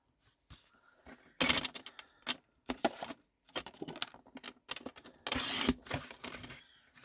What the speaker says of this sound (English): I'm going to cut this at 22